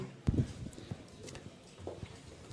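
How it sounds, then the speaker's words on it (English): Horse hooves clip-clop on the sale ring floor at a Topeka livestock auction, a few uneven thuds close by under a murmuring auction crowd. "Nice horse."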